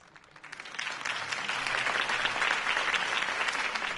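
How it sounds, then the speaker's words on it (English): A crowd breaks into applause, the clapping swelling quickly from a few hands into a sustained, dense roar that carries on steadily. "could have heard that applause"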